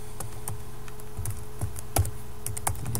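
Steady typing on a computer keyboard, rapid close key clicks in an irregular rhythm with occasional louder taps, no talking over it.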